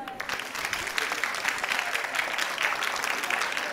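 An audience claps for primary schools at a Guinean school awards ceremony, a dense, even round of applause lasting a few seconds.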